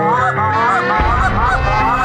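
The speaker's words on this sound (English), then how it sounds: "The geese are coming out" A flock of geese honks loudly and close, calls overlapping in a dense chorus as the birds drop in toward decoys on a hunt.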